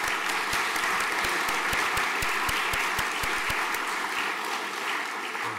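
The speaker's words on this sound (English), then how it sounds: "Round of applause" Applause from a chapel congregation after students' readings, a steady dense wash of clapping with a few sharper, louder claps standing out in a loose rhythm.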